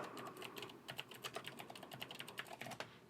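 Fast typing on a computer keyboard at a desk, a dense patter of light key clicks going on without a break, quiet and close, with no voices.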